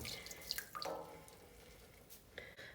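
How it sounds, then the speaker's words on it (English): Excess hot water draining and dripping from yarn dyed with Kool-Aid, with scattered close drips and trickles over a quiet background. "I'm gonna try and get some of this excess water out of it"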